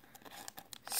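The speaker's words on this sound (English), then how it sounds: "Scissors." Scissors snip open a Pokemon TCG XY Evolutions blister pack in a few close, crisp cuts, ending in a louder rustle of the plastic packaging.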